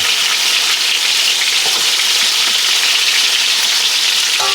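Oxtails browning in a frying pan give off a loud, steady sizzle and crackle throughout, with a few small pops near the end and no talking.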